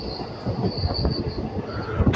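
A passenger train on the Kacheguda to Guntakal line runs steadily, with a continuous rumble, wheel squeal and faint rhythmic clatter heard from inside the carriage.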